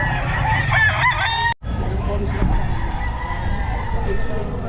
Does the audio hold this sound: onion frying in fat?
no